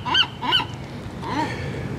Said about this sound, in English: Don't mind the seagulls.